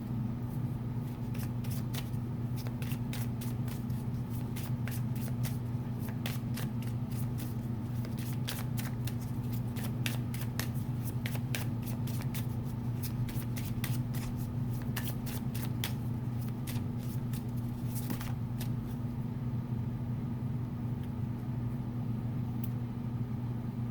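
Tarot cards being shuffled by hand during a reading, a steady run of crisp riffling and flicking that goes on throughout, close and fairly loud over a constant low hum.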